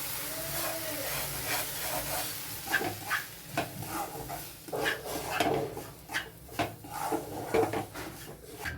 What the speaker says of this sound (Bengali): এখন কন্টিনিউ একটু নাড়াতে হবে, না হলে তলায় দলা পাকিয়ে যাবে